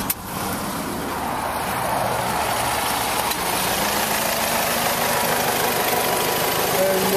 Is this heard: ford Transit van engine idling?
yes